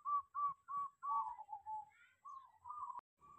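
Perkutut (zebra dove) held in a small cage, cooing alone in a clear, rhythmic series of soft, close notes, the repeated phrase rising and falling with brief pauses between calls.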